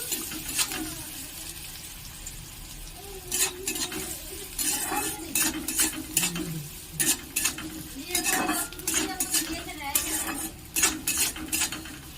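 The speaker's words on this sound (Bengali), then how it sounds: "পেঁয়াজটা খুব হালকা করে ভাজা ভাজা করে নেব।" Chopped onions fry lightly in a pan with a steady low sizzle as a spatula stirs and clinks against the metal in irregular bursts, close-up and without talk.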